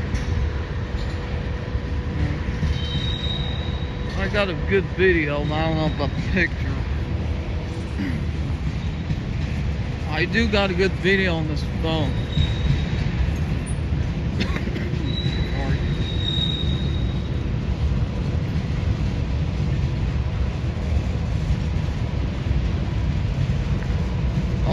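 Train rolling past close by with a steady low rumble of railcars and occasional squeals from the wheels, while someone talks over it.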